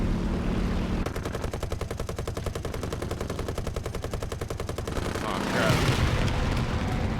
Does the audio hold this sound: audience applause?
no